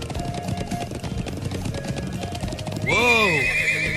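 Horse in the video game Trails of Cold Steel: quick clip-clopping hooves under game music, then a loud, close whinny with a falling, wavering pitch.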